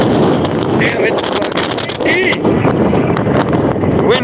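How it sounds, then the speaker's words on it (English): Strong wind buffeting the microphone by a dock on the Oregon coast, a loud continuous rumbling roar with gusts, a voice speaking under it. "fucking windy, y'all"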